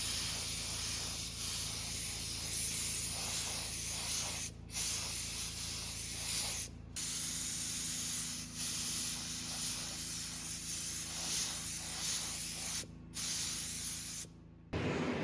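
A spray paint can that has lost pressure sprays in repeated long hissing bursts, close and fairly loud, separated by brief silent gaps where the nozzle is released.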